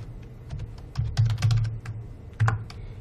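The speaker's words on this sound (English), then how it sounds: "in this box you need to type your name" Typing a name on a computer keyboard: a close burst of quick, uneven key clicks with a few louder presses, no talking.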